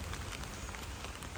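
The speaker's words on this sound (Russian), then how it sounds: "Пошел дождик." Light rain pattering steadily on surfaces outdoors in Sri Lanka, a soft, even hiss of drops without talk, fairly quiet and close.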